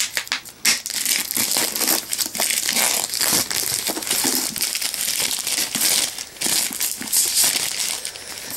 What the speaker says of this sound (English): let's take off the plastic